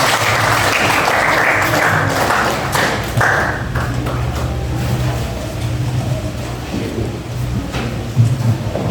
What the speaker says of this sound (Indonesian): Sudah? Oke, aplaus.